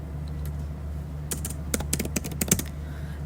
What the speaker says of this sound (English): we'll go down here and type how to create